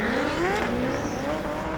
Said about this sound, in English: A big handbrake drag.